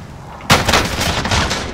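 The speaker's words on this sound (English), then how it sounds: "I'm taking fire!" Sudden loud gunshots from Call of Duty on the Verdansk map during a nuke event, a burst of heavy fire and rolling booms continuing after a sharp onset.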